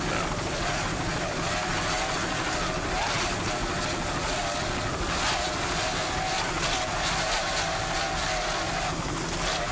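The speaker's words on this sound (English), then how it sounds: "Nice throttling there by Mr. David Horseman." Racing powerboat engines roaring continuously at an offshore race in Key West, a loud, steady droning rumble with shifting throttle, crowd and wind noise mixed in.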